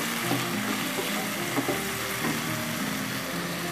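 Potatoes frying with roasted tomatoes in a pan, a loud, continuous sizzle with scattered stirring scrapes throughout.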